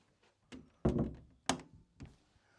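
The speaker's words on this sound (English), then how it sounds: "Well, I'll just close this door." A door is pushed shut indoors, giving a few close, hollow thunks and knocks spaced about half a second apart, the loudest near the middle, with no speech.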